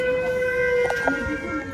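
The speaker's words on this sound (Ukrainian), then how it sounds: "Повітряна тривога." An air raid siren wails steadily at a distance during a shopping trip, a sustained tonal drone holding under some muffled background noise and faint thuds.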